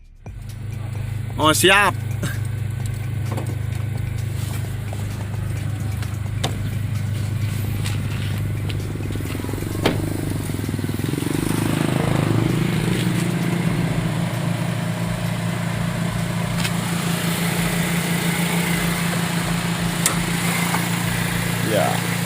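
A used Honda City with an i-DSI eight-spark-plug engine cranks and fires up, then settles into a steady close idle hum, with brief talk early on.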